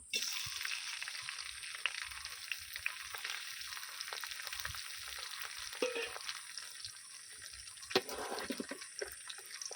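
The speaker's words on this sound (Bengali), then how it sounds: "দিয়ে দিচ্ছি সর্ষের তেল আর গরম হয়ে গেছে চিংড়ি মাছগুলো দিয়ে দেবো" Prawns frying in hot mustard oil on a lit stove, a steady bright sizzle and spatter running throughout with occasional louder pops and crackles, close and loud with no talking.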